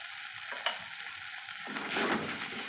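Turmeric, chilli powder and ginger paste sizzle in a hot pan for vegetable khichuri, a close, steady frying hiss that swells slightly near the end, with no talking.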